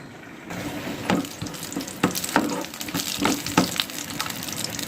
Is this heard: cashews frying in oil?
yes